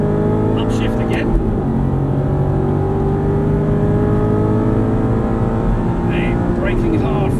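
An Aston Martin V8 Vantage accelerates hard on a race track, its engine note loud and close as it climbs through the gears while an instructor talks over it.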